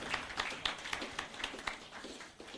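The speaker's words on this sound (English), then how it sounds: "Please, a round of applause for him." A round of applause from a seated audience at an economic outlook conference, dense steady clapping at moderate distance, fairly faint, with no talking over it.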